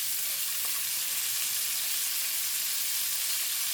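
Bell pepper and onion sauteing in a pan, a steady, close sizzle and hiss of frying that runs unbroken throughout with no talk over it.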